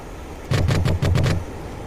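Su-25 Frogfoot cannon firing at ground targets in DCS World, a short, heavy, rapid burst of about seven thumping rounds with a brief break midway, loud over a steady cockpit hum.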